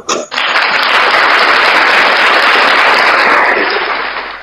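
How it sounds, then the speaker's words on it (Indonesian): Loud, sustained applause from a large crowd, starting abruptly and holding steady for several seconds before tapering off. "Tepuk tangan untuk Tuhan."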